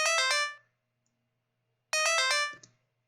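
A short synthesized music pattern played back in the Bosca Ceoil chiptune editor: two bright, quick bursts of plucky tones separated by silence, clean and fairly quiet.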